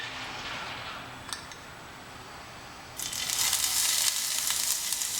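Finely chopped onion is spooned into a hot pan, and the sizzle surges from a quieter hiss to a bright, steady fry partway through, heard up close with no speech.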